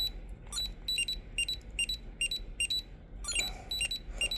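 Repeated electronic beeps sound during a training session in the Digimon Color video game. The short bright tones arrive in quick pairs and clusters in a steady rhythm, clear and close, with no talking.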